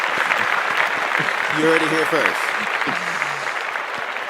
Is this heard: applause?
yes